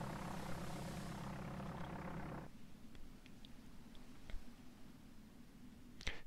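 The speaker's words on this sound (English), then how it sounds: "A somewhat sophisticated cyberpunk aeroplane airship is arriving" A cyberpunk airship in the virtual world Wissenheim arrives with a steady, loud droning engine hum that cuts off abruptly, leaving faint hiss and a few small clicks and taps.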